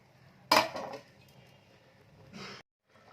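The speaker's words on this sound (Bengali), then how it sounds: "আবার এটাকে এখন আমি ঢাকা দিয়ে দিচ্ছি।" A lid clatters onto a pan of cabbage curry with a sharp metallic clink, followed by quieter rattles and a soft hiss before a brief silence.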